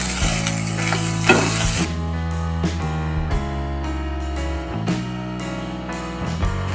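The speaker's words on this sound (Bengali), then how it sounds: "আমি ভালো করে নেড়ে চেড়ে নেব" A spoon scrapes and stirs a thick mashed potato and green chili mixture in a sizzling pan, with repeated rhythmic scraping strokes over a steady hiss.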